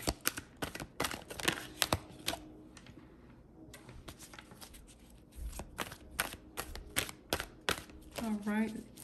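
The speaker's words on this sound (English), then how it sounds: "let's shuffle a little bit." Tarot cards are shuffled in quick, crisp riffling bursts with a short quiet pause in between, close and clear.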